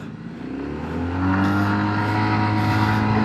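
A Voge R450X motorcycle engine revs up and accelerates, its steady rising drone growing louder and holding strong close by, with no voices.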